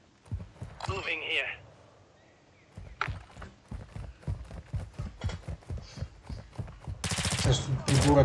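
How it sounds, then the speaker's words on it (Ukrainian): Gunfire in Call of Duty Modern Warfare II Warzone 2.0 DMZ, with bursts of rapid shots and impacts scattered through the clip, a louder, denser burst near the end, and a player's voice talking over parts of it. "стріляють."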